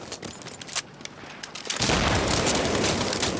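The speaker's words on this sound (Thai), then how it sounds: "ระเบิด" An explosion in the Battlefield Mobile shooter erupts midway after scattered clicks and clatter, becoming a loud, sustained burst of broadband rumbling noise that lingers to the end.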